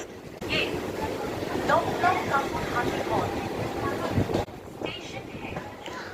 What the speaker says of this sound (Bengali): কাঁকুড়াটি স্টেশন অতিক্রম করে ট্রেনটি ধীরে ধীরে এগিয়ে চলছে।